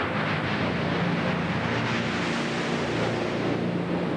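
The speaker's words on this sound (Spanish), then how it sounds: "el pesado mar golpeó la puerta de la proa del barco" Heavy sea waves pound against a ship's bow door, a loud, continuous roar of surging water and wind with no break.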